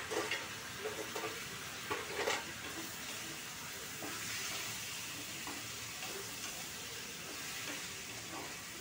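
Tomatoes fry in a pan for chamagadda pulusu, a soft steady sizzle with a few stirring scrapes near the start and no talk.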